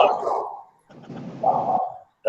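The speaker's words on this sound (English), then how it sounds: "That's my dog barking." A dog gives two drawn-out, whining barks close by, separated by a short pause.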